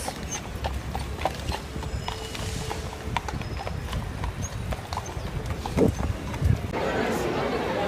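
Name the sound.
horses clip-clopping on street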